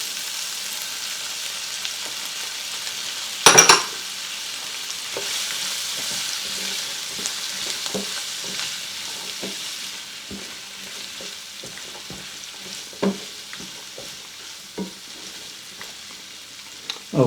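Sliced mushrooms sauté in a pan for a Swiss steak gravy, giving a steady, moderate sizzle. A sharp utensil clatter comes early, then scattered light clicks and scrapes of stirring, with no voices.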